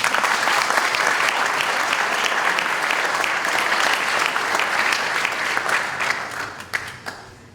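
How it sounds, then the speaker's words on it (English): Audience at an Armed Forces Day event gives a hearty round of applause for performers, dense clapping that holds steady and then tapers off near the end. "So please, let's give them a round of applause."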